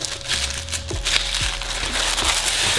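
Tissue paper inside Louis Vuitton packaging crinkles and rustles steadily during an unboxing of a silk square, close and fairly loud, with a few soft thumps of the box and no speech.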